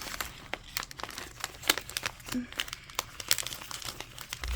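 Paper dollar bills are folded and tucked into a small budget envelope, making close, crisp crinkling and rustling in short irregular bursts while a person talks.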